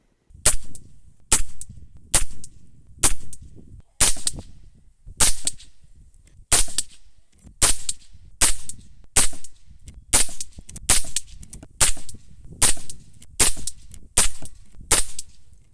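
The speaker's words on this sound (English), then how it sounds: "So then we can have some shots at the target and see where it's going." A string of about twenty sharp, loud gunshots at a shooting target, spaced roughly every half to one second and each with a short decaying tail, close and without talk.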